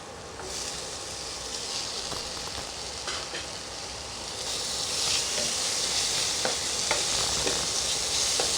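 Chopped tomato hitting hot mutton fat for chana masala, a bright continuous sizzle that swells louder partway through, with light stirring scrapes and no talk.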